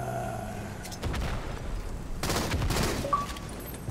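Gunfire and explosions in a Halo MCC multiplayer match, with repeated sharp shots and blasts rumbling through about three seconds of busy, fairly loud game noise.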